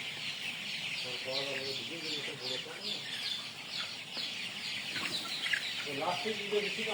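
A flock of about 1000 Tiger chickens clucks continuously nearby on a poultry farm, with repeated rising calls over a busy background, while someone talks quietly.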